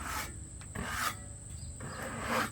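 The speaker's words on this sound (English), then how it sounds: "get my scraper out here" A hand scraper drags across freshly milled log wood in rough, rasping strokes, with brief pauses between close, dusty scrapes and no talking.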